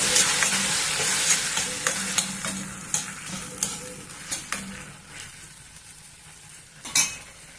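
A green paste of ground gooseberry stir-frying in a pan, with continuous close sizzling and a series of spoon scrapes and clinks against the metal, fading slightly toward the end.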